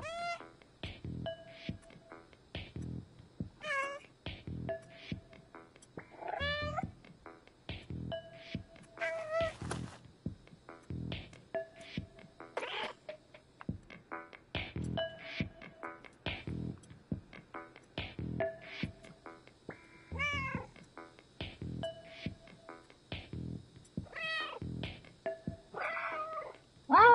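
An orange stray cat meows over and over in short, clear calls, some drawn out into wailing caterwauls, close to the microphone and steady throughout with no talking.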